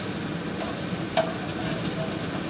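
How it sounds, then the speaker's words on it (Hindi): Dal vadas frying in hot oil in a kadhai, a steady close sizzle and bubbling hiss throughout, with one faint tick partway through. "इसी तरह फ्राई कीजिए।"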